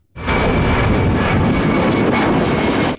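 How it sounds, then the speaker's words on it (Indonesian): A fixed-wing airplane roars overhead, loud and steady for nearly three seconds with a sustained engine drone and whine before cutting off abruptly. "Tuh, pesawatnya lewat lagi teman-teman."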